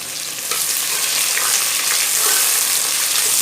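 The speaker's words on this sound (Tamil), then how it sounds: "இந்த 2 வெங்காயம் கட் பண்ணியிருக்கிற இல்லைங்களா, இதையும் போட்டுக்கலாம்." Chopped onions and chillies frying in a pan for idli sambar give a loud, steady, close sizzle with faint stirring scrapes throughout.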